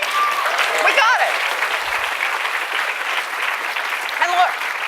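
An audience at a town-hall event with Elizabeth Warren claps loudly and continuously, a dense wash of applause with scattered cheers and whoops throughout.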